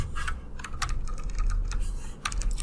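Quick clicks of a computer keyboard sound in short irregular bursts over a low background hum, near and fairly clear, with no voice over them.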